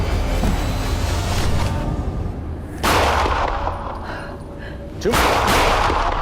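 Pistol shots fired at a close-range paper target during FBI agent training, two sharp loud cracks a couple of seconds apart over background noise, with brief speech.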